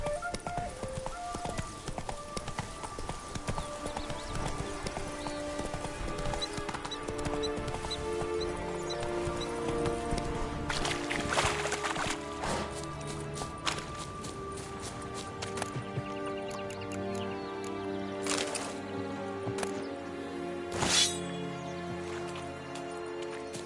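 Roach, the horse in The Witcher 3: Blood and Wine, gallops with a steady rapid clip-clop of hooves that runs under a bed of game music.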